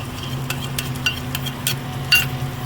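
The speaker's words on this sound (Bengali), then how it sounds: "এরপর এর মধ্যে দিয়ে দেবো আমি ফেটিয়ে রাখা টক দই" Beaten sour yogurt is stirred into a spice paste frying in oil for a chicken curry, giving a steady low sizzle with a few sharp scraping stirs of a spoon against the pan.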